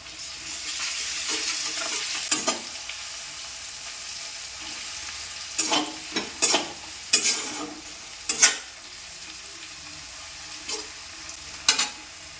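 Garlic paste fries with browned onions in a pan, giving a steady soft sizzle broken by several sharp scraping stirs of a spoon, close and alone.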